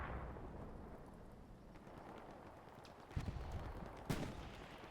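Gunfire in a tank battle video game, distant muffled booms and rumbling shots under a steady low roar, with a few sharper reports standing out toward the end.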